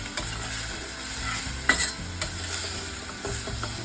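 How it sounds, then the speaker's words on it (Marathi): Drumsticks and potatoes stir-frying in a pan hiss with a constant sizzle while a spatula scrapes and knocks against the pan in irregular strokes, close and fairly loud. "नंतर ही तवे शेंगे आणि बटाटे टाकू। पण असे चांगले परतून घ्यायचे।"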